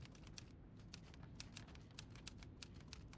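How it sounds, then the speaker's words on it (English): Rapid, uneven mechanical keystrokes from a typewriter beside a telegraph in a small room, a steady patter of crisp clicks with short pauses, close and fairly quiet, with no voices. "The sound of the telegraph and typewriter harmonizes, echoing this little room."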